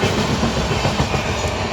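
A train rolls steadily past, its railcars filling the whole clip with a broad, even rumble and faint clickety-clack.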